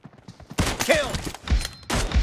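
Gunfire bursts in the battle royale game PUBG crack out in quick succession over about two seconds, loud and close, with voices calling out between the shots.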